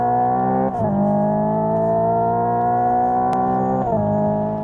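Synthesized engine note heard inside a 2025 Hyundai IONIQ 5 N electric performance car: a loud, steady, harmonic drone holding pitch, with brief dips like simulated gear shifts near the start and end, no talking.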